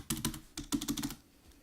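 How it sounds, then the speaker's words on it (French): Rapid keystrokes on a computer keyboard, a quick burst of several distinct clicks about a second long, close and fairly loud with no voices, then quiet. "là je joue avec le clavier"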